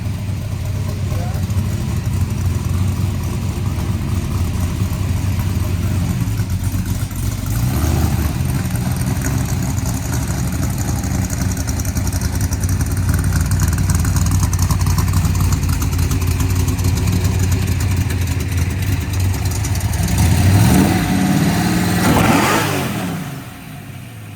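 A nitrous Chevy S10 drag truck idling roughly on race fuel, a loud, steady, close engine drone running throughout, with a brief rev near the end before it settles and fades slightly.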